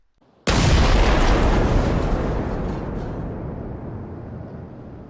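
A gas tank explodes in the video game Generation Zero, a sudden deep blast that follows a brief quiet moment and then rolls on as a long, slowly fading rumble.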